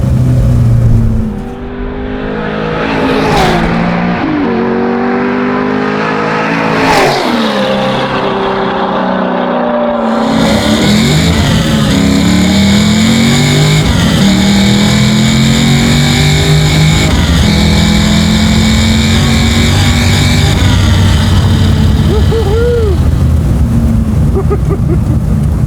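A garage-built 1968 Chevrolet Camaro muscle car engine revs loudly and close by, its pitch swelling and falling in repeated pulls before settling into a sustained, steady roar.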